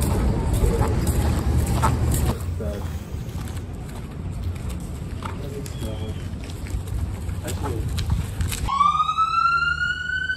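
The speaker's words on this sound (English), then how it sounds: "That might be the ambulance we saw earlier." An ambulance siren on a campus starts suddenly near the end and rises in pitch, loud and clear over background street noise and pigeons cooing.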